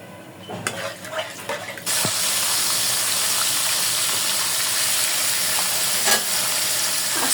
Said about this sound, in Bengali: তেলটা গরম হলে পরে মাংসগুলো ভাজে নেব